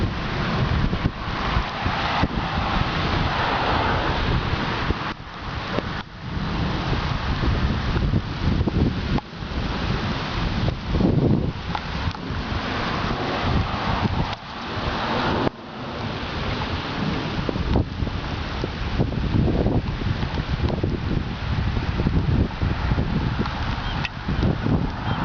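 Strong wind roars through a west-northwest thunderstorm alongside steady rain and rumbling thunder, loud and continuous for the whole stretch with brief dips, and no one speaks.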